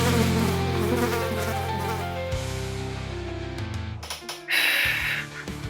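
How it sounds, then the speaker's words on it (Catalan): A mosquito buzzes close and loud in a steady whine that shifts in pitch as it moves about, broken near the end by a few brief clicks and rustles. "Veieu que n'hi ha un mosquit per així."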